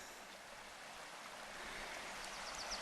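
A river flows along the bottom of a Yorkshire Dales valley near old mine workings, a soft, steady rushing of water heard from a distance, faint and unbroken.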